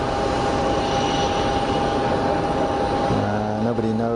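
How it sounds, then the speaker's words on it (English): A Bombardier Global 6000 business jet takes off at Geneva Airport, its steady jet roar dominating throughout, with a rising whine emerging near the end and a voice talking faintly underneath. "Nobody knows where the Bombardier is off to. Global 6000, Global Express. Offering a short and sweet takeoff"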